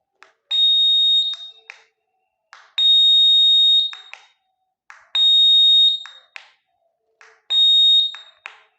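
A small electronic buzzer wired in series with an LED sounds four times in a regular pattern, each a loud, steady piercing tone lasting about a second with a click at its edges, separated by silence.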